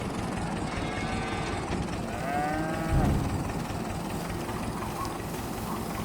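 Cattle in the Farming Simulator 22 game let out a few low moos, one loud and drawn-out near the middle, over a steady background hum with no talking.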